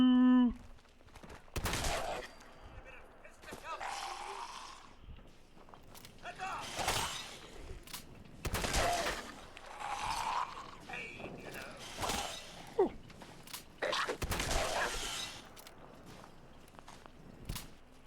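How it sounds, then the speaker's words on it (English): Shotgun gunfire in the video game Fallout 4: a run of loud, sharp blasts spaced a second or two apart, mixed with clanking reload mechanisms and footsteps. "Shotguns are phenomenal."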